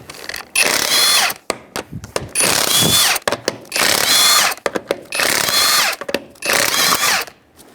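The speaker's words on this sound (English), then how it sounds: "With a 19mm socket, we're going to take off our wheel." A power impact tool spins off wheel lug nuts with a 19mm socket on a 2003-2011 Honda Element, five loud close bursts of whirring and rattling hammering separated by short pauses.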